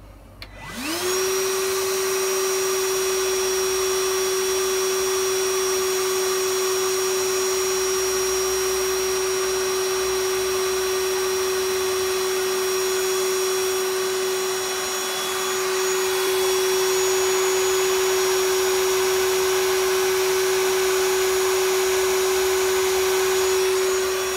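A Ryobi R18PV-0 cordless shop vacuum starts up and runs loudly and steadily with a constant high whine, its pitch and roar barely changing throughout.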